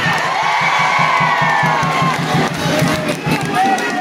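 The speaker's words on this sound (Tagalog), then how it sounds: "Hindi ko marinig ang hiyaw nyo, Rodante Marcoleta." A large crowd at an outdoor political proclamation rally in Manila cheers and shouts continuously, loud and dense, with a steady rhythmic chant or beat underneath and scattered whoops.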